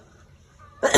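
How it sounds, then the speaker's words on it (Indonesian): A single short cough right at the end, set off by chili fumes while making spicy sambal, brief and close after near silence. "ini batuk gara-gara cabenya nih."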